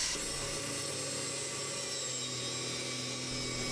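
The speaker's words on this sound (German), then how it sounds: "Über eine Hebelkonstruktion wird mit der Flex ein Stück Rundmaterial geschliffen." An angle grinder, mounted on a lever arrangement in a spark-flight test setup, grinds a piece of round metal bar with a continuous loud, harsh whine and no pauses.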